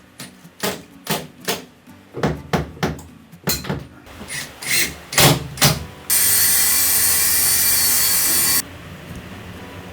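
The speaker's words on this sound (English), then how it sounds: "now that the kokuso has dried, I chisel it off for a clean finish." A chisel scraping and knocking dried kokuso lacquer putty off a sharply curved wooden arch, a series of rhythmic close strokes followed by a steady loud rasp, with no talk.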